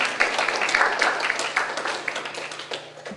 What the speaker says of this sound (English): let's give our volunteers a nice round of applause